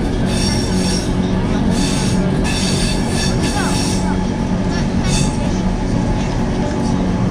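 A train ride near Zermatt, Switzerland, heard from inside the carriage: a loud, continuous rumble of wheels on rails with brief high wheel squeals, steady for the whole stretch.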